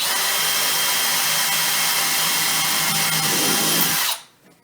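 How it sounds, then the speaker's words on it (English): A power drill whirs steadily at a low, even speed for about four seconds while repairing a cabinet drawer front, then cuts off abruptly into near silence. "try really hard not to drill through your hand"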